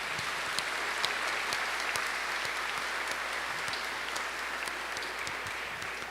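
Sustained applause from a church congregation after a Sunday Easter-season homily, a dense, steady clapping that fills the space evenly for several seconds, heard alone without talk.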